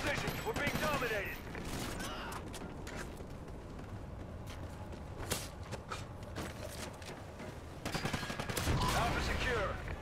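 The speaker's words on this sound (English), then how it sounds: "Freaking assault rifle against them." Assault rifle fire in a Wii U shooter game, with dense rapid bursts and scattered single shots over a continuous battle din, heaviest at the start and again near the end, with a voice talking faintly underneath.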